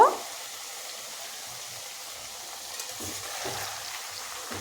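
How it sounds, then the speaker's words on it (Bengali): Potatoes frying in oil in a wok give a soft, steady sizzling hiss that holds evenly throughout, with a few low bubbling pops near the end and no voices. "তো এটা ভাজা হওয়া অবধি অপেক্ষা করব"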